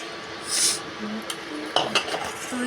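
Coriander egg curry being sautéed in a pan: a short burst of scraping and stirring, followed by scattered utensil clinks and clatter against the pan, close and moderately loud.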